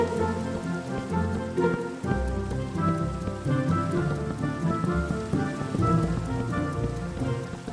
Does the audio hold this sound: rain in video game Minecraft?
yes